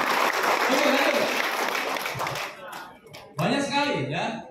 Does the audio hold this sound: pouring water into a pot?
no